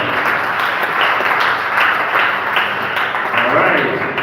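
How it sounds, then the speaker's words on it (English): An audience at a poetry and storytelling festival breaks into sustained applause, a dense wash of clapping with some cheering from a crowd, loud and close throughout. "Let me hear your other applause."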